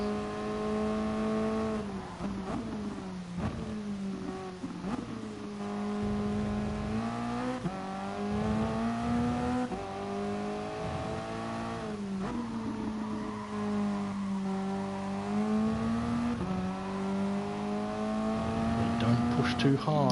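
Toyota race car on a hot lap of the Catalunya circuit, its engine loud and close throughout with rising and falling revs through gear changes, while someone talks over it steadily.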